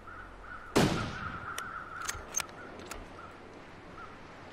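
A rifle fires once in the survival video game The Long Dark, a sharp close report that rings and decays over about a second, followed by a few fainter clicks and taps.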